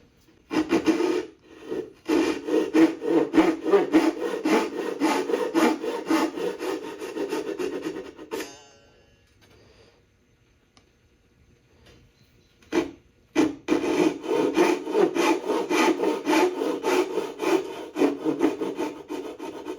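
A hand saw cuts dovetail tails in wood with steady, rhythmic rasping strokes, close and clear. The sawing stops for a few seconds midway, then resumes at the same even pace.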